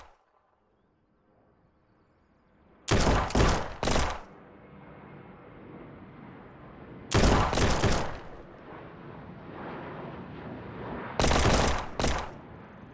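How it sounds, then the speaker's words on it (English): Three short bursts of rapid rifle fire ring out on a video game shooting range, each volley loud and close, with a quiet ambient hum and faint gaps between them. "Everybody go get some shooting practice. 10 rounds rapid fire."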